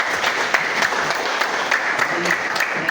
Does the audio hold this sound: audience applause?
yes